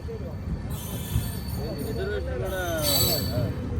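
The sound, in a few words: train on the adjacent track at Gudur station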